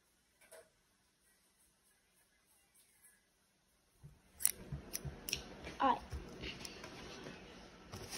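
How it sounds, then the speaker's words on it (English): Scissors cut through packing tape on new toys: a few sharp snips and crinkling handling sounds come in after a quiet start, close and fairly faint. "Let me get some scissors."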